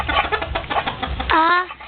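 A chicken clucks in a short run of close, choppy notes ending in a drawn-out cluck.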